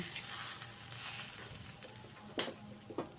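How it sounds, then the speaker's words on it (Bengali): Gravy for a raw green banana kofta curry simmers in a pan, giving a soft, steady sizzling bubble with a couple of sharper pops near the end. "গ্রেভিটা আমার এভাবে ফুটে গেছে"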